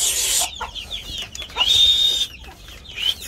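Chickens cluck and chatter close by on a farm, with a blue rooster's sharper calls rising above the flock; busy, uneven farmyard bird sounds throughout.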